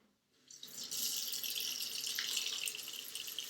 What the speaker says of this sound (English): So first we're going to wash our hands.